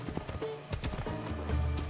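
Horse hooves galloping in the video game Assassin's Creed Odyssey, a steady run of rhythmic clip-clop beats over game music and ambience, moderately loud and continuous.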